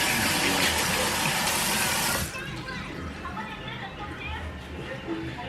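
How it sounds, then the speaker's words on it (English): Running tap water rinsing hands in a home kitchen, a loud steady gush that cuts off after about two seconds, leaving quieter room sounds. "I'm gonna rinse my hands off."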